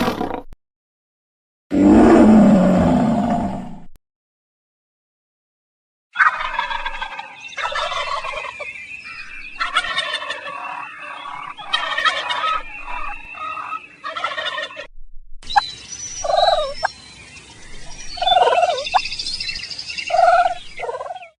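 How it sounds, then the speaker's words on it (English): A turkey gobbles repeatedly, fast rattling calls recorded close and fairly loud, following one short harsh burst of another animal's call near the start. "A turkey made this sound."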